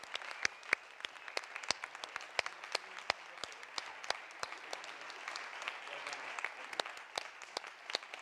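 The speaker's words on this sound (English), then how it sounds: "So then we all clap." A crowd at a business and nature summit applauds steadily, many hands clapping in a dense, continuous patter with sharper individual claps standing out, no talking over it.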